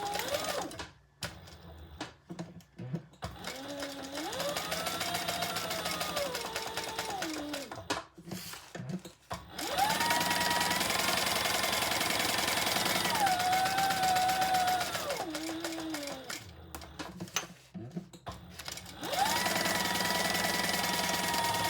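Sewing machine basting a checkered fabric pocket onto bag lining, running in several steady bursts with short pauses between, its whirring motor pitch rising and falling as the speed changes.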